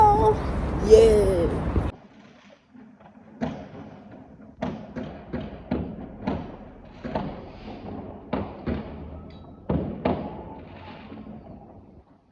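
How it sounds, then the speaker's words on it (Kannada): New Year fireworks and rockets in Germany burst in a string of irregular booms and thuds, some nearer and some distant, after a brief stretch of talking at the start. "ಆ್ಯಸ್ ಯು ನೋ ಪಟಾಕಿ ಹೊಡಿತಾರೆ ಇಲ್ಲೆಲ್ಲ"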